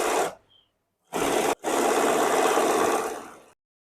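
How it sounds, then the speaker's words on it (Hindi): A sewing machine runs in two bursts, a short one and then a longer, steady whirring stretch of about two seconds, as it stitches the center seam joining two pieces of a farshi shalwar trouser. "अब हम इसके सेंटर्स वाली सिलाई लगा लेंगे।"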